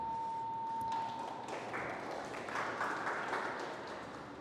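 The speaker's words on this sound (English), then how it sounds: "give a big round of applause for yourselves for doing that" An audience at a talk claps for themselves, a faint, fairly distant round of applause building after a brief pinging tone at the start and continuing softly to the end.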